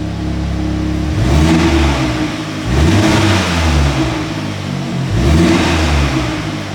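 An Audi S3 8V engine heard through an open car door, revved three times in quick succession: each loud, rising surge falls back toward idle between blips, with no one speaking.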